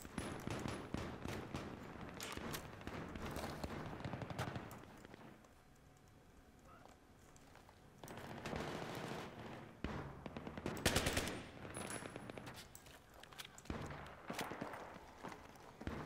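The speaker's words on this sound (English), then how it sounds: "There's a guy on the roof. Shooting at me." Continuous gunfire in a Battlefield 4 match, dense bursts of automatic weapons and single shots with loud rattling volleys, a calmer stretch midway, then heavy firing again with footsteps mixed in.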